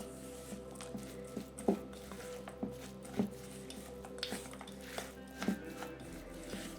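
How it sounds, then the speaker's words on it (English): Butter, almond flour and pecans being mixed by hand in a bowl for a keto cheesecake crust, giving soft regular taps and knocks about twice a second over a steady low background hum. "You just wanna mix it until the butter is well combined with the almond flour and it is not dry."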